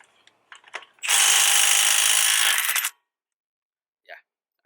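A Milwaukee stubby cordless impact wrench running on a high-output battery fires one loud, close burst of about two seconds, with faint handling clicks before and after.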